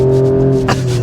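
A 2024 Alfa Romeo Stelvio Quadrifoglio's engine hums loudly at steady revs from inside the cabin, with a brief rising rush near the end as a paddle shift comes in.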